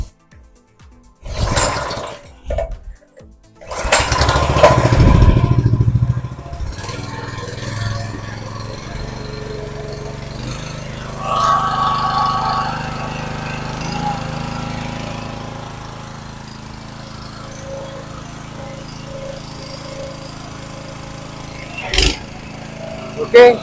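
A HAZENclean GPC200HZN petrol pressure washer engine is pull-started: a few short tugs, then a louder burst as it catches. It settles into a steady, continuous running drone, with people talking at times.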